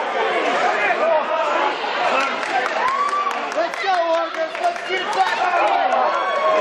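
A wrestling arena crowd at a chaotic tag team match rumbles with dense chatter, shouts and scattered clapping, a steady loud wash with a commentator talking over it throughout.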